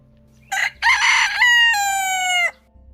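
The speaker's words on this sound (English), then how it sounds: "Gotta have our fun chicken noises." Chicken noises from the Minecraft video game, a loud close burst of clucks followed by a long, drawn-out squawk that fades out, all without any talk.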